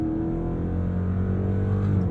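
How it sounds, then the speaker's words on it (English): A 2023 Chrysler 300C engine revs hard under manual paddle-shift control, a loud, close, steady harmonic engine drone that climbs slightly in pitch over two seconds. "We can take it all the way out to red line"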